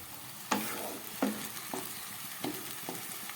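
Onion paste sizzles in a pot of rich mutton over medium heat, with a low frying hiss and four or five sharp stirring strokes that each spark a brief burst of crackle.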